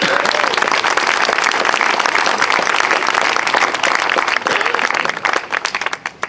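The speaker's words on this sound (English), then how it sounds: "Please give him a round of applause." An outdoor audience at a statue dedication applauding, a loud, dense burst of many hands clapping that holds steady and then thins into scattered claps at the end.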